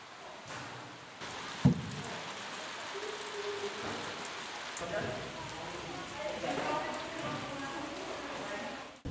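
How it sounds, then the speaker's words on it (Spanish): Steady rain falls and patters around a bus travelling toward the eastern heights, a dense, even hiss with a faint engine rumble and a few sharper knocks, no talk. "Nos dirigimos en autobús bajo la lluvia, hacia las alturas del este."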